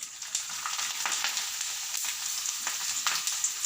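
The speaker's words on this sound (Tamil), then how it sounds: "இப்போ இதை நான் கொஞ்சமாக உங்களுக்கு வறுத்து காட்டிடுறேன்" Dried cluster beans frying in hot oil: a steady, close sizzle with scattered crackles and pops running throughout, with no talking.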